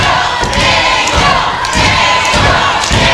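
A large crowd at a PCW wrestling event cheers and roars continuously, loud and dense, with chanting swells and occasional dull thuds underneath.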